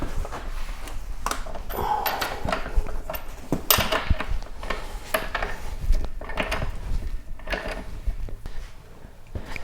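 Work on the rear axle nut of a KTM RC390 motorcycle brings close metallic clinks, taps and scraping knocks from a spanner and parts, irregular and moderately loud, with no one speaking.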